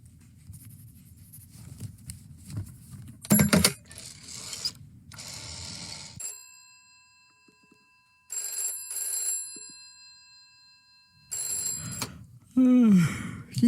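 A telephone rings in the game This is the Police, sounding in several separate bursts with silent gaps between them, mixed with low rumbling and brief mechanical clicks.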